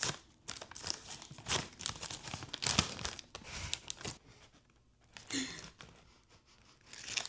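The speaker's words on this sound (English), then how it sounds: "ASMR of cutting, apparently, because we can't open this damn bag." A snack bag that would not open is crinkled and snipped with scissors, giving a close run of crackling plastic crunches, rustles and short tearing cuts, loud and alone, with brief pauses between bursts.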